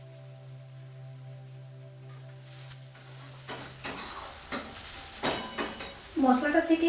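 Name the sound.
stirring spice paste with water in a frying pan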